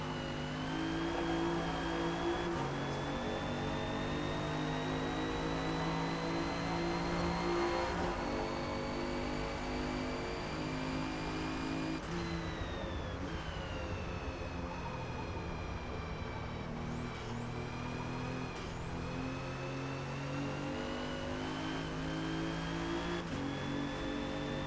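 A 2017 Alfa Romeo Giulia race car in Forza Motorsport laps the Hakone circuit. Its engine drones loud and steady throughout, climbing in revs with repeated sharp drops at gear changes, and no voices are heard.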